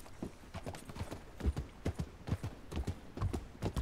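Horse hooves clip-clopping steadily in Red Dead Redemption, a close rhythmic trot of hollow thuds, fairly quiet and alone.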